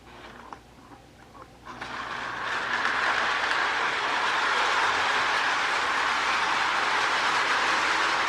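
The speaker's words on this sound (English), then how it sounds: "Let me turn the camera this way again so you can see the train coming around." A K-Line model train with an S2 switcher runs along its track, its rolling rumble swelling as it comes around and then holding at a steady, fairly loud level, with no one talking.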